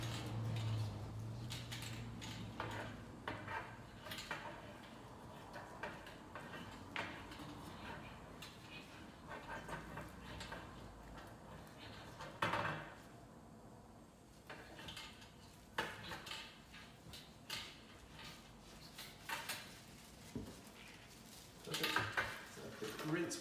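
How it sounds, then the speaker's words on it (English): A wire brush scrubs back and forth inside a firearm barrel, producing irregular metallic scraping and rattling strokes, close and moderately loud, with intermittent sharp clinks. "We'll give it a nice thorough run through once again with the wire brush, making sure we really scrub through there, contacting everything on the interior."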